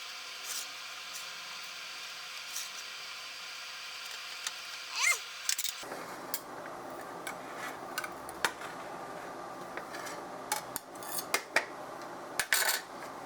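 A knife cuts into a homemade apple pie, giving faint, sparse clinks and soft scrapes against the dish in a quiet kitchen, with a few sharper taps near the end.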